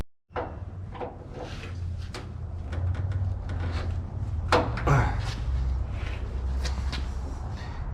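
A door shifts and knocks during roof work, giving a series of sharp wooden thuds and bumps over a low steady hum, close by and without speech.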